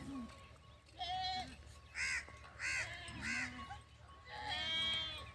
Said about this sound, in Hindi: अब जा रही हैं भेड़ें